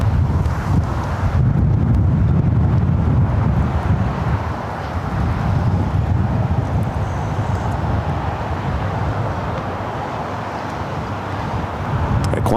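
Strong wind roars steadily across the microphone at LAX airport, loud and constant, with a low rumble and no clear voices.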